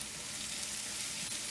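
Paneer tikka masala mixture sizzles and fries steadily in a hot pan as it is stirred, a constant close crackle with no talking.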